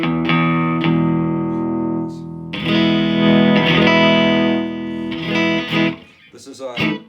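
Electric guitar, a G. Gould Slant T with the fat control turned up, played through overdrive: thick, mid-heavy chords and sustained notes ring loud and close, with brief pauses between phrases and some picked notes near the end.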